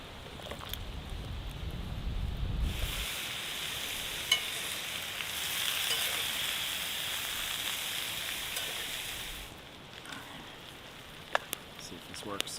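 A hash of local pork, sweet potato, potatoes, onion and peppers fries in a pan at a camp by the Copper River in Alaska, giving a steady close sizzle with a low rumble at the start and a few clinks near the end.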